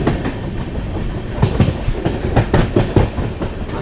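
Amritsar-Bikaner Super Fast Express at speed, heard from aboard as a loud rumbling roar with a steady clickety-clack of wheels over rail joints, growing stronger partway through.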